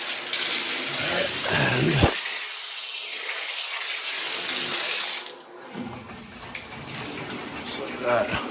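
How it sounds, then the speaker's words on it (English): Water pours steadily from an old, worn shower during a plumbing service call, a continuous hiss close by with someone speaking briefly over it. "Man, that shower had seen better days."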